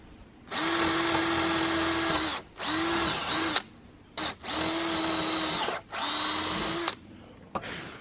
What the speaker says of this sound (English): I can just step up under here and drill up